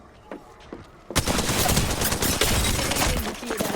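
Gunfire in Apex Legends: a few faint distant shots, then a sudden loud, dense burst of rapid automatic fire that keeps going to the end.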